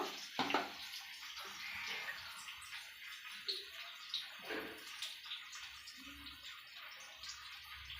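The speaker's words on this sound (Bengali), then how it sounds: "এটা আমি জল দিয়ে গুলিয়ে নেব অল্প করে জল দেব" A little water is poured into ground spices in a small bowl to make a paste for a paneer curry, making faint, intermittent trickling and splashing with quiet pauses.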